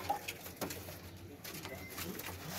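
Domestic pigeons, a pet flock kept at home, coo softly in short low bursts against faint background noise, with a few brief knocks nearby.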